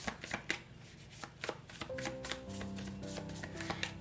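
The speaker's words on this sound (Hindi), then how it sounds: "शफल कर लेते हैं वृषभ राशि टॉरस साइन के लिए" Tarot cards being shuffled by hand, with a quick run of soft riffling taps that gives way to steadier papery shuffling, close and fairly quiet with no talking.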